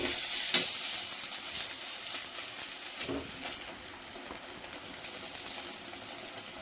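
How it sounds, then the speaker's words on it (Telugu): Garelu, lentil vadas, fry in hot oil over medium heat with a steady hiss and crackle and a few brief stirring clinks, close and continuous. "వడ అనేది మీడియంలో పెట్టి కాల్చుకోండి"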